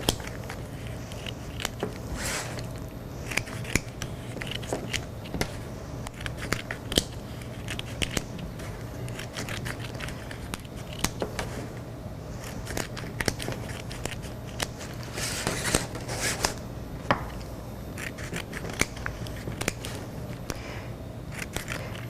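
Wet basket reed spokes are snipped down the middle, giving sharp, irregular clicks and crisp cuts close by over a quiet room, with short bursts of rustling handling between them.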